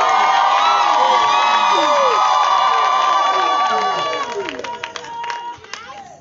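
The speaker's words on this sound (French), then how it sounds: "Je n'entends pas vos cris de joie, mesdames et messieurs." Wedding guests at a ceremony where a man marries four wives on the same day, cheering, whooping and shouting with joy among scattered clapping and children's cries, loud and close, thinning out toward the end.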